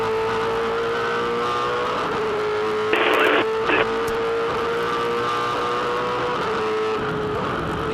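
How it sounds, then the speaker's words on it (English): An onboard V8 Supercar engine drones at high revs around Pukekohe Raceway, with two short bursts of harsh noise as the engine briefly flares against the rev limiter in fifth gear over bumps. "Just hear the car flaring across the bumps, just touching the rev limiter in 5th gear"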